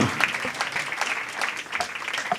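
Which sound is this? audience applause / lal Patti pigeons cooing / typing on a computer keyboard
audience applause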